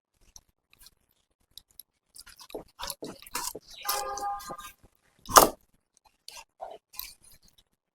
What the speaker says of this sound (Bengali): মাংসটাকে কেটে নেব।